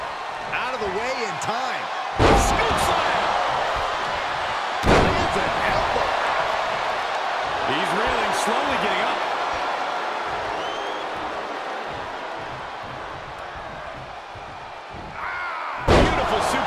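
Heavy impacts from a WWE2K22 wrestling match between Braun Strowman and Ultimate Warrior: a few sharp, loud slams spaced several seconds apart, over crowd noise and excited commentary.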